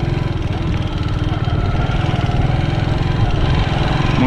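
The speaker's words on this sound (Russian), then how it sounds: "Двигатель прогрелся." A Reiser Turist 150 walk-behind tractor engine, warmed up, idles steadily nearby with a rough, rapid chugging rhythm that holds constant throughout, no voices heard.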